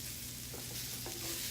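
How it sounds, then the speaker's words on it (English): Brussels sprouts sizzle in a Lodge pan as they are stirred, making a short, steady hiss of frying with soft scraping movements over it, close and alone. "Brussels sprouts are going to cook really quickly, so I want to keep them moving pretty often"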